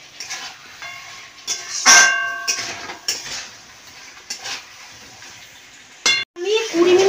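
Spice masala being stirred and fried in a pan gives intermittent scraping strokes and soft sizzles, with a few clanks of a utensil against metal. Quiet gaps separate the strokes, and a short sharp burst comes near the end.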